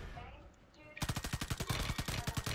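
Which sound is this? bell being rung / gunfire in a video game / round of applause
gunfire in a video game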